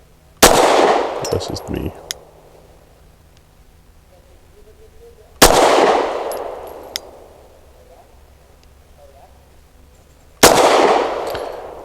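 Three loud, close pistol shots from an Ermox X-fire fired at a target on a range, each a sharp crack with a ringing echo tail, spaced about five seconds apart, with a brief voice after the first.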